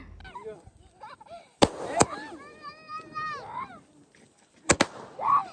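Sharp fireworks bursts at a birthday celebration, a few loud cracks spaced apart against a quiet night, with a voice talking and a whistling rise between bangs.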